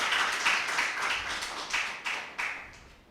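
Scattered clapping at an evening impromptu speaking competition, a modest group giving short, uneven applause with a few louder claps standing out near the end.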